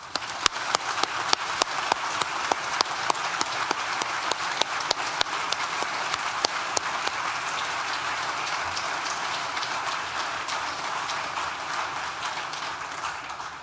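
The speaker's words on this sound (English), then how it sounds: "well-deserved round of applause." A large audience at the Nottingham Business School graduation ceremony at NTU claps continuously, with crisp individual claps standing out over a dense, even wash of applause that holds steady, then thins slightly toward the end.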